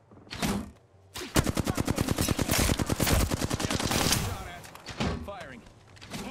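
Rapid automatic gunfire in the video game Apex Legends during a ranked match, a dense burst of shots lasting several seconds after a short opening shot, loud and close, with game sounds around it.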